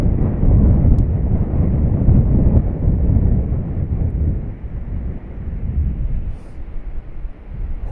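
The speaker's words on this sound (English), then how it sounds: "Oh my god, that is windy." Strong gusty wind during a snow shower, roaring loudly into the microphone as a heavy, rumbling buffeting that surges and eases in gusts.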